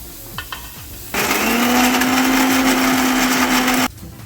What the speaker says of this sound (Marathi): आपण हे खोबरे थोडे मिक्सरमधून वाटून घेऊया